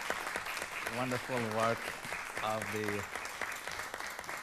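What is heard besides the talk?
applause at a council meeting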